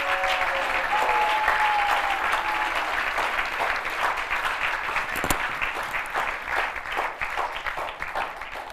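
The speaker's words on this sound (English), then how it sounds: "Give her a big round of applause." A crowd claps loudly and steadily at a Gaura Purnima kirtan celebration in Rishikesh, cheering a woman who has just received Gayatri initiation. The dense applause runs unbroken throughout, with a faint voice briefly above it.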